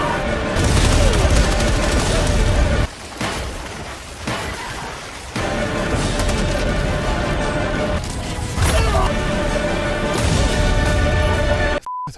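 Automaton enemies in the Helldivers 2 video game firing on the player, a dense, sustained barrage of loud gunfire and booming blasts that run almost continuously for about twelve seconds, with a few brief dips.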